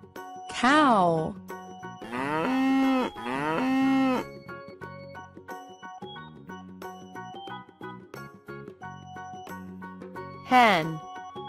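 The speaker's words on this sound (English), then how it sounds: "Cow." A cartoon cow moos twice in long, low, drawn-out calls, with a short spoken word before and after over light tinkling music.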